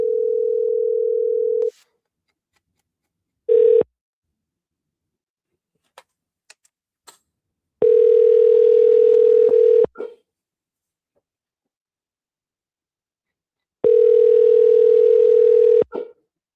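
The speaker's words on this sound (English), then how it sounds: "Let me try calling him." Outgoing telephone call ringing out, a single steady ringback tone repeating in long evenly spaced bursts with silent gaps, a few faint clicks in between.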